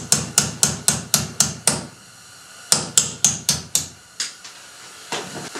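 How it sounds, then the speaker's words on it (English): A steel punch struck with a hammer to drive the roll pin holding an AR-15 bolt catch out of the receiver: two bursts of sharp, ringing metallic taps, six then four, followed by a few softer scattered hits, close and loud with no talk. "we can use to tap out the roll pin holding the bolt catch into the receiver"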